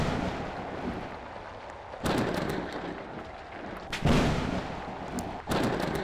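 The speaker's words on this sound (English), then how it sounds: "thunderstorm." A thunderstorm rages during an earthquake in a Roblox game. Sharp rumbling cracks of thunder strike three times over a continuous dull roar, fairly distant and moderately loud.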